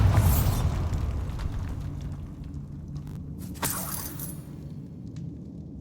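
A Bombarda spell detonates in Hogwarts Legacy: a heavy boom opens loud, then rumbles and decays, a second sharp burst with debris crackle follows midway, and the tail fades to quiet.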